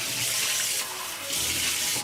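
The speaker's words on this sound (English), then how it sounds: "So we gotta refresh it with some water a couple times to get all the soap out of it." Steady running tap water rinsing soap out of a mechanical gaming keyboard, a loud continuous splashing rush with brief shifts as the keyboard moves under the stream.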